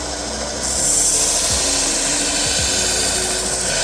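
A knife blade scraped steadily across a sharpening surface while its bevels are worked, a close, continuous gritty rasp growing louder after a short start, with a few soft knocks underneath.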